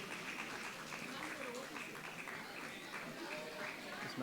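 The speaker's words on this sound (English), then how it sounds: "Please give them a big round of applause." Graduation ceremony audience claps steadily, a dense, fairly faint wash of applause heard from a distance with continuous crowd murmur beneath it.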